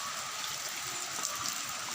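A rain-swollen stream gurgles and rushes steadily, a continuous broadband wash of flowing water with no pauses, heard alone at moderate level.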